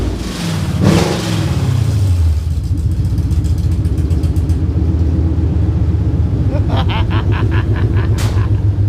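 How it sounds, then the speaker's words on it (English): A Coyote V8 swapped into a wagon and running on open headers rumbles loudly and close by inside a shop, a deep, rough idle with a brief blip and some higher mechanical rattling near the end. "That is open headers Coyote right there"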